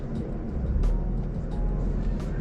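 A BMW M4 moves off from rest, its engine a steady low rumble with a few brief higher-pitched bursts on top, close and continuous with no talking.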